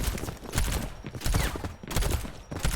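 Rapid bursts of gunfire from a shooter video game, fired in sustained sprays with brief pauses, dense and loud throughout.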